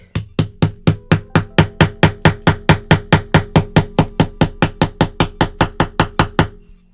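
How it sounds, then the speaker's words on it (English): Hammer blows drive a chisel into a hard black rock, a rapid steady run of roughly thirty loud ringing strikes close by, then stopping abruptly, with no talking. "There's just no way to chisel this."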